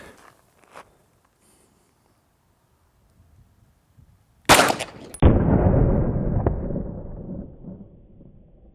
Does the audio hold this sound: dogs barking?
no